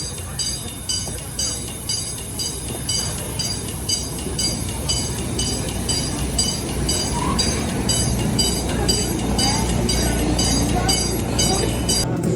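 Roller coaster trains on test runs at Busch Gardens Williamsburg rumble along the track with a steady rhythmic clatter and a high metallic whine. The sound is loud and continuous, and the crowd noise behind it is blurred.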